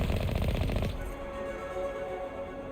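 Mako armored vehicle in Mass Effect 1 firing on an enemy cannon: a rapid, loud burst of repeated weapon shots for about a second, then it stops and steady game ambience carries on.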